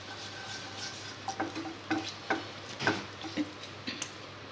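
Cloves, cinnamon and bay leaf fry in hot oil for an okra masala curry, giving faint, sparse crackles and small ticking pops over a quiet background hiss, with occasional stirring clicks.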